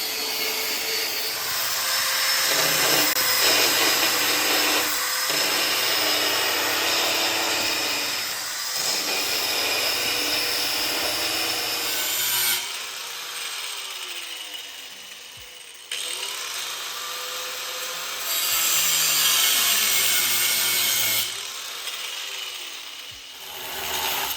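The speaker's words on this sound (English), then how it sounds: "we can use one of these little drill attachments because it fits very well in there" A small drill attachment grinds wood in tight spots of a shaved engine bay, a steady loud whirring rasp that runs continuously, dipping briefly at a few points as the bit is repositioned.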